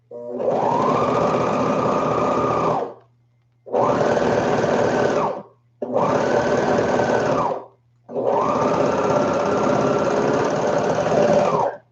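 A Juki serger sewing machine running in close, loud bursts: four sustained whirring runs of a few seconds each, separated by short pauses with a faint background hum and no voices.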